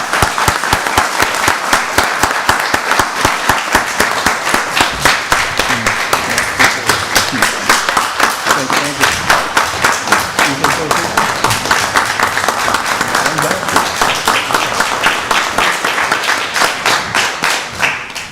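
Sustained audience applause at a county board of commissioners meeting, dense steady clapping from a room full of people lasting the whole stretch, loud and close, with faint voices mixed in.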